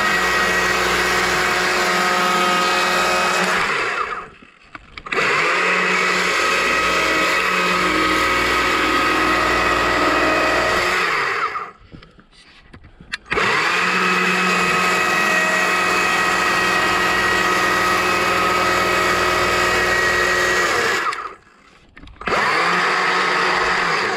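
A chainsaw trims the back of a solid wooden bear carving, roaring loud and steady in three long runs broken by two short pauses, with no talking.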